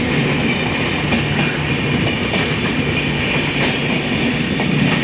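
A train at Devlali railway station near Nashik, its carriages rumbling steadily with a continuous clatter of wheels on track, loud and close throughout, with no voices.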